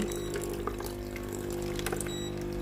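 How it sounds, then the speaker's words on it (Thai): Water gushes steadily from a Philips GC7051 steam iron during a water system test after repair of a faulty water hose, a continuous close wash of flow over a low, even pump-like hum. "น้ำสามารถไหลออกในส่วนของตัวหน้าเตา"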